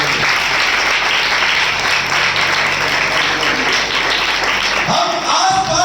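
Loud, sustained applause from a church congregation during a Sunday sermon, dense clapping filling the whole stretch before easing off near the end.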